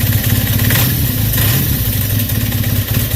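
A 1976 Kawasaki KZ400 motorcycle idles after carburetor tuning, its engine running with a close, loud, steady rapid throb and slight variations in speed.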